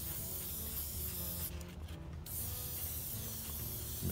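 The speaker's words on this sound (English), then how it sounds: "spray through any residual from cleaning the airbrush" An airbrush loaded with Mission Models chrome metallic paint gives one short, sharp hiss of spray near the middle, set against a steady low background hum.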